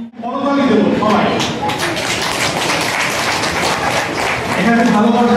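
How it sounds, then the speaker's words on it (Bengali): An audience at a poetry festival breaks into loud sustained applause, a dense crowd of clapping hands filling the space right after a voice calls for it, with a voice returning faintly at the end. "করতালি দেব সবাই"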